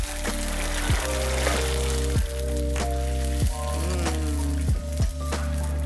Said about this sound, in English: Are you cooking the garlic? Okay. So I can smell it. The oil is nice and warm now